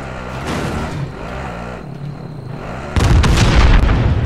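Gunfire and heavy booms in Call of Duty Warzone, loud and close over a rumbling vehicle engine, with the shots thickening into a dense, harsh burst toward the end; no talking.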